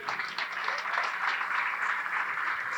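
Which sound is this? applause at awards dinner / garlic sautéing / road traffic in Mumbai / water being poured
applause at awards dinner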